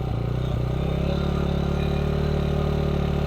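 A small engine catches just after starting and keeps running with a steady, close putter and a faint clatter. There is no talk over it.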